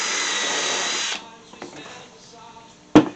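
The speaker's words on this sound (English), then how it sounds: "I'll drill me a hole in the back where I can screw it to the post" A power drill whines steadily as it bores a hole through the back of a coffee can bird house, running about a second before stopping, followed by quiet handling noises and a sharp clunk near the end.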